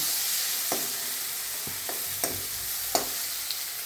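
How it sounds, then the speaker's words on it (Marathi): Onions sautéing in a pan with asafoetida and turmeric for fried okra: a soft, steady sizzle broken by about five sharp spatula scrapes, close but fairly quiet. "आता त्याच्यामध्ये आपण कांदा परतून घेऊया"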